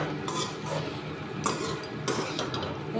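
Metal lid set onto a cooking pot on a low gas flame, with a few clinks and knocks of metal on metal scattered over steady kitchen background noise.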